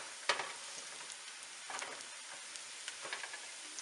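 Onions frying golden brown in a pan for paya, a soft continuous sizzle with occasional pops and a few louder crackling surges, quiet and close.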